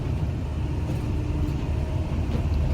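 A snowcat engine crawls along in first gear, low range, giving a steady, loud low-pitched rumble that barely changes across the whole stretch.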